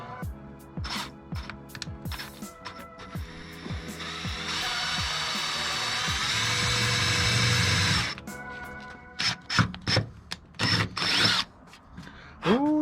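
A power drill bores holes in a Nissan 350Z body during an Amuse flare install, one steady whirring run of several seconds between short clicking, ratcheting taps.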